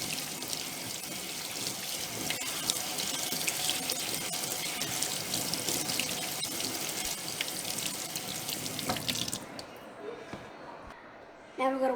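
Tap water runs steadily from a faucet into a sink as potatoes are washed, a broad continuous rush that stops near the end, leaving quieter handling sounds.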